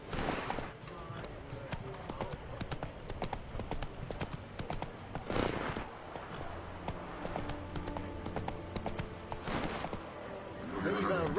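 Roach galloping in The Witcher, hooves pounding in a rapid, continuous rhythm up close, mixed with game music and ambience, while voices speak over parts of it.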